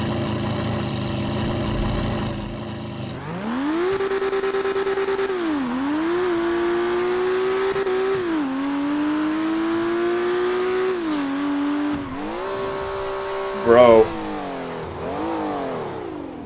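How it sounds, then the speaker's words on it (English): A loud V12 car engine in the Grand Theft Auto roleplay video game revs up from idle and holds a high, rising drone with several pitch shifts, briefly spiking near the end; a voice speaks once. "Loud ass V12 engine."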